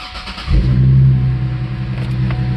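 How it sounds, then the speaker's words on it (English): A Cadillac STS V6 engine cranks and fires after a water pump replacement, then settles into a steady, close, rumbling idle with a brief rev at startup. "go ahead and start the car"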